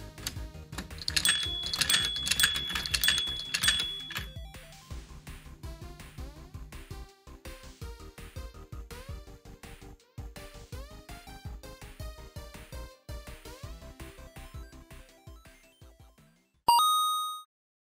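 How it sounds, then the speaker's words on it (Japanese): A small 3D-printed mechanism clicks and ticks in a rapid, irregular rhythm, ending with a metal ball striking a bell in a single bright metallic ding. "今作では金属球を使った鐘打ち機構にも挑戦しました"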